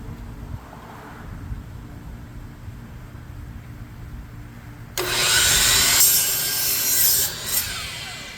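Home Depot lumber being sawn for an outdoor workbench, quiet rustling at first, then a louder, harsh rasping stroke of sawing into wood that continues for a few seconds before easing.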